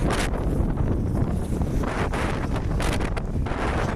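Strong, gusty sandstorm wind in Ladakh roars and buffets the microphone in continuous heavy blasts, harsh and loud throughout.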